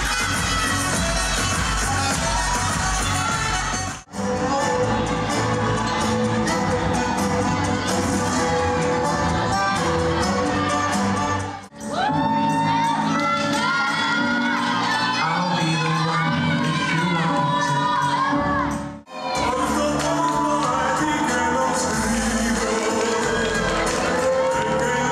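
A crowd at a regional ballroom dance competition cheers and applauds, loud and continuous, with whoops and shouting layered over the clapping in several sustained bursts separated by brief cuts.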